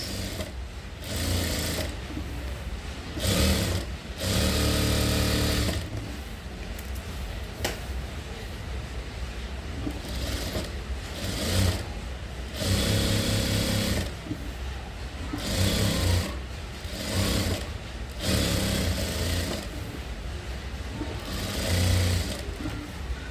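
Sewing machine stitching the lining of a sleeveless blouse, running in long steady bursts of fast motor whirr and needle clatter, broken by short pauses between seams.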